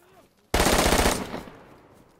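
Automatic gunfire in a video game: a single loud, close burst of rapid shots that cuts in abruptly and decays over about a second.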